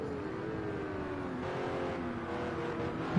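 Revving GT3 race car engines from a sim racing game on the Spa-Francorchamps circuit, a continuous high-pitched engine whine with wavering pitch as the cars push down the straight, no voices.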